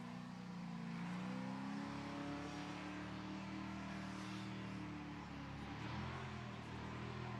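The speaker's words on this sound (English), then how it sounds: "And he's still drifting now." A race car revs hard while drifting around a track that is nearly dry, its engine a loud, continuous, close-up wail that holds and shifts in pitch for the whole stretch, with no talk over it.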